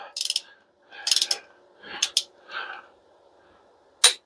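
A torque wrench ratcheting on small block Chevy cylinder head bolts, several short bursts of rapid clicking separated by pauses, close and crisp in a quiet room.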